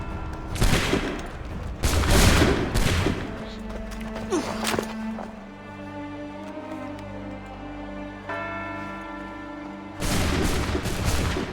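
Musket volleys in Assassin's Creed III: several loud, close booming bursts of massed gunfire with sharp cracks, separated by a stretch of lower rumbling game ambience before a final heavy volley.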